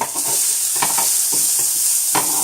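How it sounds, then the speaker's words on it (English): Zucchini and other vegetables sizzle on a grill, a loud, steady hiss broken by a few soft taps as the pieces are flipped. "I put all of the vegetables diagonally and then I flip their direction"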